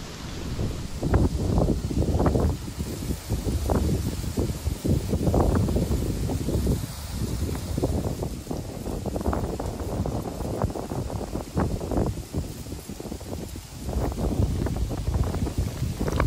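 Strong wind buffets the microphone at an Astrakhan riverbank during a fishing trip, a continuous loud roar with gusty surges and rustling, no speech.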